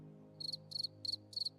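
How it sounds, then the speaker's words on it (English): Crickets chirp close by in four evenly spaced bursts, each a quick trill of rapid pulses, set against a quiet low hum and with no voices. "Crickets."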